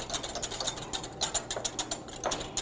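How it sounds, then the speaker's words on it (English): A whisk beats an egg mixture into stock in a bowl, giving a fast, steady, close scraping rhythm that runs the whole time without any talk. "Keep whisking the whole time."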